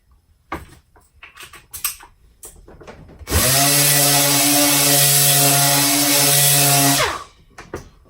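After some scattered knocks and handling noises, a Dynabrade random orbital sander whirs up loudly, runs steadily for several seconds, then winds down, followed by more light clatter.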